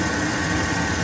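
A Chevrolet engine idles with the AC compressor running, giving a steady, close, continuous rumble and hum with no talk over it.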